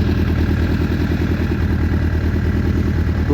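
A Suzuki Bandit 600 motorcycle idles with the choke on after crash repairs, a steady, loud, close throbbing engine note with mechanical clatter and no rise in revs.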